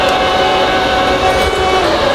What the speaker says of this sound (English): Did you hear that compression noise?